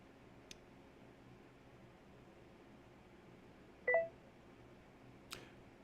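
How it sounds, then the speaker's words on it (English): A computer in a home trading setup gives a few short, faint electronic beeps and a ding as stock trades execute, with quiet room noise in between. "Those little beeps, those little dings on my computer are trades being executed."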